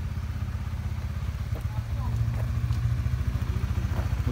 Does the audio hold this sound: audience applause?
no